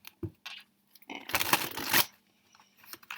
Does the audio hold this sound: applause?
no